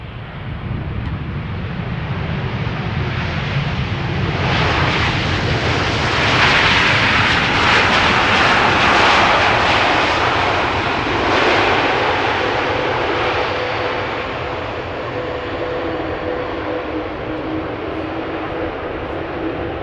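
A six-year-old Boeing 787-9 Dreamliner roars at Schiphol Airport on a drizzly day, its jet engine noise swelling loud and broad, then fading slowly as it passes, with some wind buffeting and no voices.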